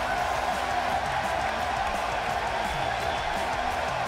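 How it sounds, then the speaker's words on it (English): Crowd noise from the WWE 2K18 video game before a women's one-on-one wrestling match, a steady, dense roar of an arena audience running continuously at a moderate level. "And Michael, it sounds to me like this crowd already picked the one who they want to win this match"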